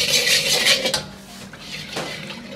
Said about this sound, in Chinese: 炒糖色一定要小火慢炒。